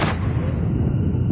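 A sustained, booming burst of gunfire in a shooter video game, loud and close, with a heavy low rumble throughout the short moment and no talking.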